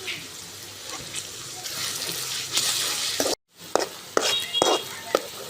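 Onions with bay leaves, cardamom and cloves frying in oil for a chicken roast, a steady close sizzle with scraping stirs, briefly cut off mid-way, then resuming with clinks.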